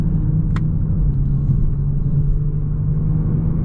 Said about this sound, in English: Love that upshift noise.